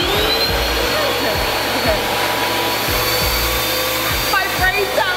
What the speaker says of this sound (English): Welcome to my vacuum salon.